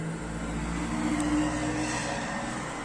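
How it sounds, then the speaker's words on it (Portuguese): A noisy truck passes by outside, a steady low engine rumble with a faint tonal hum, fairly distant and continuous throughout, with no talking. "Passou um caminhão barulhento aqui."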